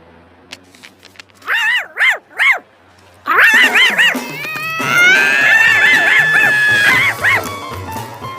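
A dog barks in a quick burst of three sharp barks, then louder overlapping barks and yelping whines follow, close and prominent.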